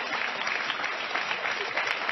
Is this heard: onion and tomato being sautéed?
no